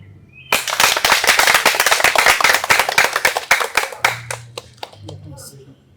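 A crowd at a political rally in support of a constitutional referendum breaks into sharp, rapid clapping that is loud and close at first, then thins into scattered claps as a low hum returns.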